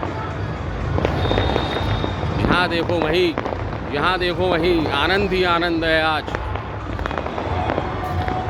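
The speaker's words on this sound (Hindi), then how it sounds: "जिस दिशा की तरफ देखो शाहू दिशा गुंजायमान है पटाखों के शोर के साथ में।" Firecrackers and fireworks burst across Jaipur during Makar Sankranti celebrations, with repeated pops and crackles all around. Close, excited talk runs over the top throughout.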